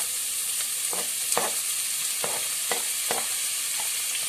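Shallots stir-fry in a hot pan, a steady bright sizzle broken by regular scraping strokes of a spatula about every half second, close and alone with no voices.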